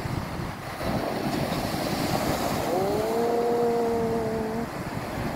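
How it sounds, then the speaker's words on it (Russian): Storm surf on the Black Sea at Lyubimovka beach near Sevastopol: heavy waves roar and wash continuously, loud and close, with strong wind buffeting the microphone. "Ох, какие волны идут. Сильные."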